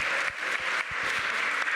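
A conference audience at a UNESCO campus event applauds in a dense, steady wash of clapping, loud and continuous with no talking over it.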